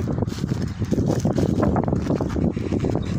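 Steady wind blows over open farmland, a continuous broadband rush buffeting the microphone, loud and close with no voices.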